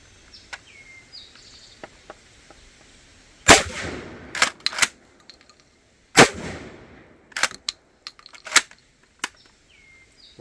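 A Smith & Wesson M&P12 bullpup 12 gauge shotgun fires outdoors in two loud, sharp blasts a few seconds apart. Each blast is followed by mechanical clacks of cycling, and faint birdsong runs in the background.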